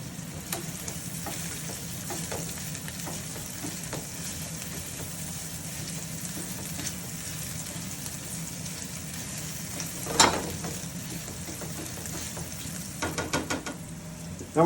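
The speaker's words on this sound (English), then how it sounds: "I like to smush as I'm cooking, get that real flavor releasing and scent of the garlic and the onions" Garlic, onions and ginger sizzle steadily in a pan, close and continuous, while a utensil presses and stirs them with occasional scrapes and a few louder knocks near the end.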